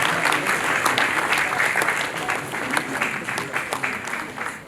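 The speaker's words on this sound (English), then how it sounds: "Please keep clapping to see her again." Dense, sustained applause from a large conference crowd fills the space, many hands clapping steadily without a break.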